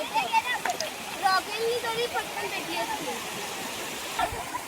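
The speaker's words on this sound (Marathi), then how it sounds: "इथे मॅगी सोडून हे पाण्यामध्ये मस्ती करतायत" Children splash and play in water in a forest while a campfire burns for cooking Maggi noodles, a steady rushing stream running throughout with scattered splashes and bright children's voices over it.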